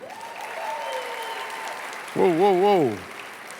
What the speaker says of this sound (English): You guys brought your own cheering section or what?